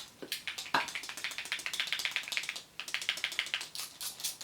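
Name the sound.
clicking the ball button on a Fidget Cube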